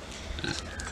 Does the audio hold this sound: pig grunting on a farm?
yes